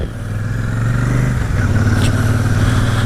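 Royal Enfield Shotgun 650 motorcycle pulling in second gear up a steep hill at about 20 mph, its engine a steady, loud, close throb that rises slightly.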